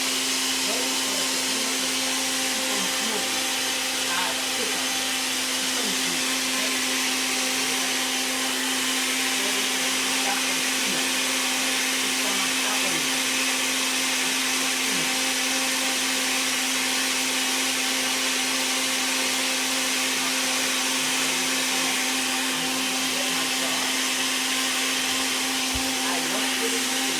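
Blender running steadily while making a cucumber smoothie, a loud continuous whine with a constant pitch and no pauses, with faint voices in the background.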